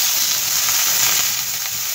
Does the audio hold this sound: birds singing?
no